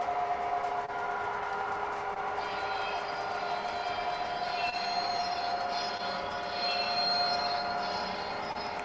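A train passes the M1000 set at close range, with continuous rumbling and metallic wheel squeal, the squeal rising at times, no voices.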